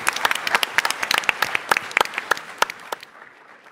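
Audience at a startup pitch competition claps after a presentation, a brisk burst of many hands that carries for about three seconds, then stops abruptly.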